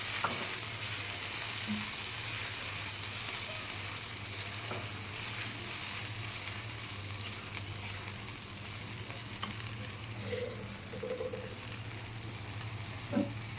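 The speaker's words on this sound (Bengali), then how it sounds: "ডালটা দিয়ে এইভাবে একটু ভেজে নিতে হবে তেলে" Moong dal sizzles and fries steadily in hot oil with ginger paste, a close, continuous crackling hiss with occasional stirring scrapes and a low hum behind it.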